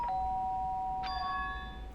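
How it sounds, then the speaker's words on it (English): Electronic two-tone doorbell chime in the video game Danganronpa 2: a clean ding followed a second later by a brighter dong that rings out and fades, over a low hum. "Doorbell? Does that mean someone's here?"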